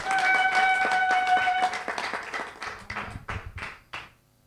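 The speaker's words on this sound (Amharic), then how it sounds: "በጭ አታርጉ፣ በደንብ አጨብጭቡ።" A church congregation claps in rhythm under a sustained tone at first, then the claps stand out more clearly and thin out before fading to quiet.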